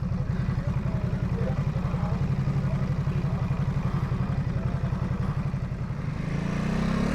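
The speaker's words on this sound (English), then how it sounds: "my first bike for the day was a Ducati supersport" Steady, rhythmic pulsing engine note from a Ducati Supersport being ridden at a motorcycle meetup, heard close and loud throughout, rising slightly in pitch near the end, with some wind or rider noise.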